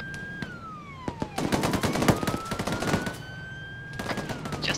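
Rapid machine gun bursts in a military video game firefight, sharp repeated cracks in fast strings with a rising and falling siren-like tone running beneath, loud and close.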